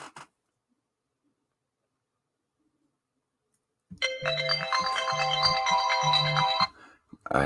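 An incoming call's ringtone plays for a few seconds after silence, a bright, close electronic melody with a pulsing low rhythm beneath it.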